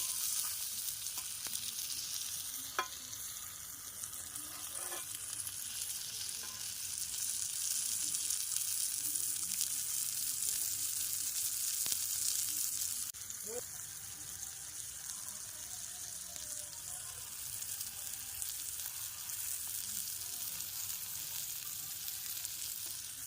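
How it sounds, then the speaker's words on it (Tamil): Fish sizzles steadily on a hot tawa, a close, continuous frying hiss with a few brief knocks and scrapes as the pieces are turned over. No one speaks. "போட்டு இப்போ திருப்பிடலாம் இது நல்லா வெந்துருச்சு மக்களே"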